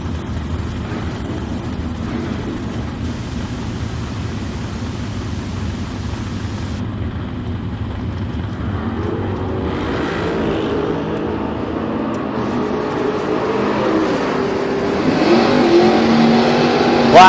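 Drag race cars, a Chevrolet S10 and a Nova, at a big-money drag event: a steady loud engine drone that swells into rising revs and launch roar toward the end, with no talking.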